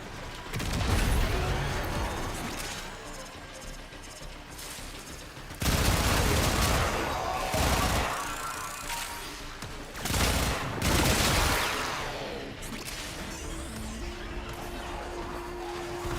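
Heavy gunfire in the video game Warframe: dense bursts of shots and blasts rolling over a busy mix of game effects, with louder surges around the middle and a few quieter gaps between volleys.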